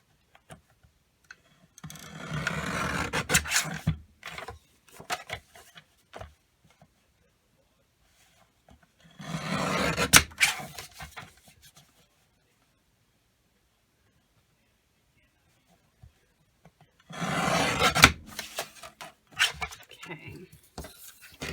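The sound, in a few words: trimming paper pieces for a planner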